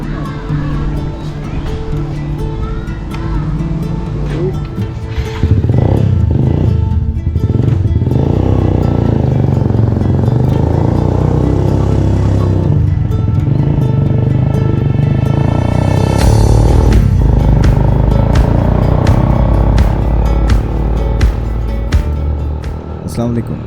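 A motorcycle ridden outdoors in windy weather gives a loud, steady engine drone with heavy wind rush. Its pitch shifts as it accelerates partway through, while someone talks over it throughout.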